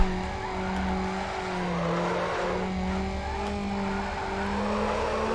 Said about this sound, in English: Just keep hooking up those drifts, lining them up.